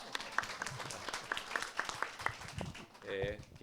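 Faint, scattered applause rises from an audience at a Spiritist centre gathering, as soft sparse claps under and around a speaking voice.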